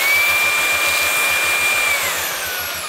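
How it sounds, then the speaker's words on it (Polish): Tefal X-Force Flex 15.60 cordless vacuum cleaner running in Boost mode gives a loud, steady whirring hiss with a high motor whine, close and continuous without talk, easing slightly toward the end. "jeżeli mamy odkurzacz włączony i przyciśniemy ten czerwony drugi spust,"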